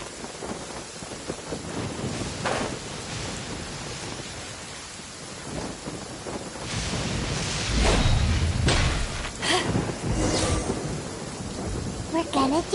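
Rain falls steadily in a video game while thunder cracks and rolls, with a low rumble building in the middle and sharper bursts near the end, the storm loud and close throughout.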